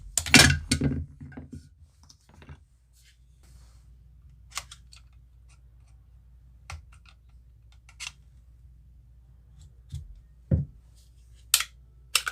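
Sig Sauer P320 X Compact pistol being taken apart to pop out the grip module: sparse sharp metallic clicks and snaps, a cluster at the start and isolated ones afterwards, close and crisp over near silence.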